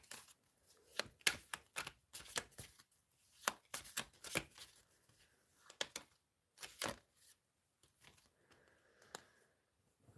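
Tarot cards are shuffled in quiet, irregular bursts of riffling and soft slaps, close and fairly faint, with short gaps between handfuls over about ten seconds.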